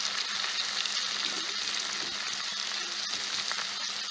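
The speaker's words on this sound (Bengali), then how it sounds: "তো এখানে দেখতেই পাচ্ছেন একে একে 3টা মাছই আপনার দিয়ে দিতেছে কড়াইতে।" Koi fish frying in oil in a wok on a clay stove give a steady, loud sizzle and crackle that continues throughout without pause.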